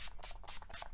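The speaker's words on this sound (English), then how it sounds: "I'm going to do is spray my face and set everything in. So I'm using the Urban Decay All Nighter Makeup Setting Spray" Urban Decay All Nighter makeup setting spray is misted onto a face in about four quick, soft hissing bursts, close and fairly quiet.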